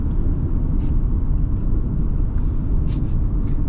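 Steady, loud engine and road rumble from an Infiniti G37x during a test drive, a continuous low drone heard from inside the cabin with no talking.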